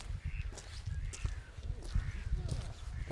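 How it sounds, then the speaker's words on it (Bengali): Birds call repeatedly in short, harsh caws, fairly close and overlapping, by a large European lake with ducks and swans, with a few soft footsteps in the background. "বাহ, প্রচুর পাখি, প্রচুর পাখি।"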